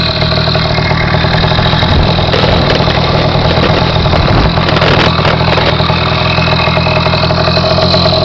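A 49cc motorized bicycle engine idles loud and close, a steady buzzing two-stroke drone that holds without pause throughout.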